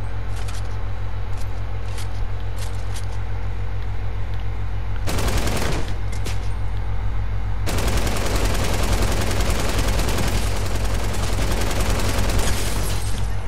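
Gunfire in Fortnite: rapid repeated shots over a steady low engine-like hum, with a dense sustained burst of fire in the middle and a long continuous barrage through the second half, loud and close.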